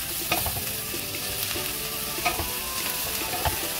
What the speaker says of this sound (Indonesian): Okey, kita masukkan cendawan tu tadi. Kita tumis dia.